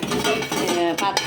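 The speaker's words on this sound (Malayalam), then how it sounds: "ചായപാത്രമൊക്കെ ഇങ്ങനെ ഇറക്കി കഴുകി കഴിഞ്ഞാൽ" Steel tea pots and utensils clink and scrape against each other in a steady run of washing-up clatter, close by, with no talking.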